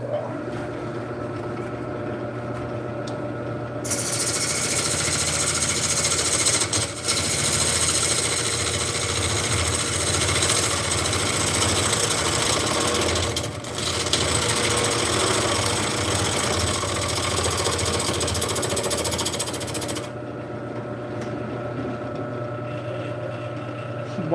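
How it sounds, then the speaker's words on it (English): A bowl gouge shapes wood on a spinning lathe, giving a loud, steady broadband scraping hiss over a low motor hum that runs for about sixteen seconds and then drops back to the quieter hum alone. "I think we ought to actually shape it inward just a little bit more with the bowl gouge to give us a better purchase"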